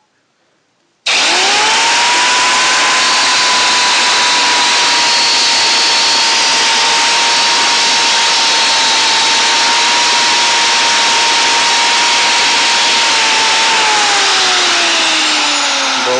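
An angle grinder kicks in abruptly and cuts metal during a DIY exoskeleton build, keeping up a loud, close, steady high whine with a sustained tone for the rest of the stretch, unbroken by talk.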